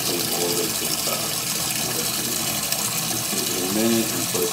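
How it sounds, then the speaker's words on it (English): Hot water runs steadily into a portable washing machine, a continuous close splashing fill with a brief gurgling swell near the end and no talk. "we're cleaning up with the hot water"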